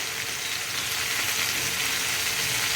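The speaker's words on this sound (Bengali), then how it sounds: "আমি 1 থেকে 2 মিনিটের মতো এটা ভালোভাবে ভেজে নেব।" A pan of bottle gourd fries over a high gas flame with salt and turmeric, giving a loud, continuous, even sizzle close up with no speech.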